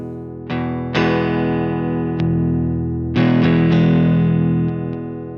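Thick, fuzzy electric guitar chords processed through a Sequential Pro 2 synth with its girth effect, strummed several times and left ringing, loud and sustained.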